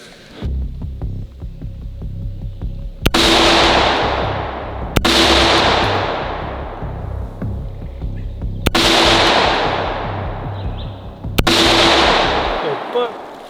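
Four sharp .223/5.56 rifle shots fired outdoors toward a tannerite target, each a loud crack followed by a long rolling echo that fades over a couple of seconds, with a low hum between shots.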